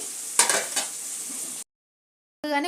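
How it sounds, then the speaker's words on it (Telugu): Onions frying in oil in a home kitchen pan, with a steady bright sizzle and a few stirring scrapes for over a second and a half, then silence and a brief return of the hiss at the end. "ఇప్పుడు దీంట్లో ఉల్లిపాయలు వేసుకున్నాం కొంచెం బాగా వేగాలి"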